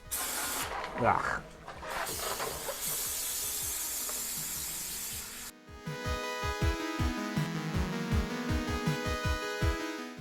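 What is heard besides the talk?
spraying brake cleaner on transmission pan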